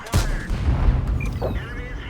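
A T32 tank in World of Tanks fires a single loud, deep cannon shot near the start, followed by rumbling battle noise, with someone talking over it.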